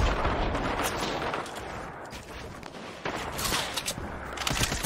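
Dense, continuous gunfire and explosions in an online shooter game, loud and close, with rapid overlapping shots and blasts filling the whole stretch without pause.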